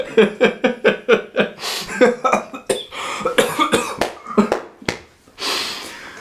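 A person coughs repeatedly in cold 10-degree weather in quick, harsh bursts, a rapid run of close coughs followed by a few breathy, wheezy ones.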